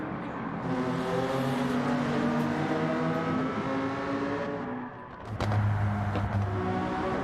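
A Honda NSX race car in a racing video game drones at high revs with a strong, steady engine tone, drops briefly near the end, then surges back in a loud upshifted roar.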